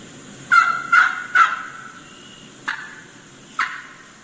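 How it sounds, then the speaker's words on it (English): A wild turkey gobbler answers a hen, with a quick run of three loud gobbling notes followed by two fainter, sharper calls, fairly close with no one talking. "If you listen closely, you hear the gobbler responding to this hen."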